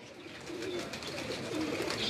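Low, soft cooing from racing pigeons at a loft rolls on steadily and faintly, with a slight rise toward the end.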